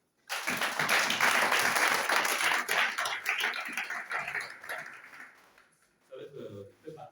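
A church congregation applauds, a burst of loud, dense clapping that swells then gradually thins and fades, followed by a few scattered claps and faint murmuring.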